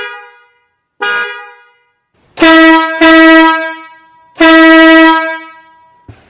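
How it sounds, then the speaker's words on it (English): A loud, piercing train horn fitted to a Toyota Tacoma pickup truck, blasting several times close up: a brief toot, then three long harmonic blares with short gaps between them. "I'll honk the new train horn."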